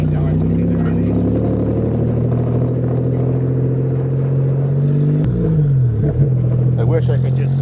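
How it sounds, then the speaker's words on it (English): A manual Toyota pulls away in first gear on a farm, its engine droning in a loud, steady low rumble that sags briefly near the end as the clutch is slowly released. "First gear, always first gear to take off."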